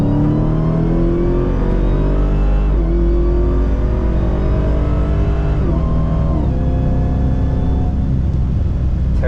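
A Dodge Demon 170 at a dragway revs hard with a loud, close engine roar that surges and dips in pitch several times as the tires break loose.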